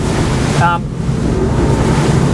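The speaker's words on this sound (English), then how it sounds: "Going through these waves, taking the boat at angles, operating the vessel" SACS Strider 11 boat running at angles through offshore waves, heard as a loud, steady rush of wind and churning water close to the microphone, with a brief voice-like sound partway through.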